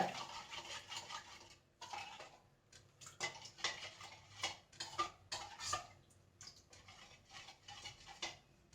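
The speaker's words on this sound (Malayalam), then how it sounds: "കുറച്ച് വെള്ളം ഒഴിച്ചു കൊടുത്തിട്ട് നന്നായി കലക്കി എടുക്കുക" A spoon scrapes and clinks against a bowl in steady bursts, stirring arrowroot powder with water close by, with brief pauses between strokes.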